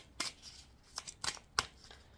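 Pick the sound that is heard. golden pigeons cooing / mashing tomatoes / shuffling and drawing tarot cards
shuffling and drawing tarot cards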